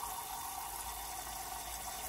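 Water filling the tank of a La Sorrentina Atomic stovetop espresso maker, a steady rushing pour heard close and alone for about two seconds.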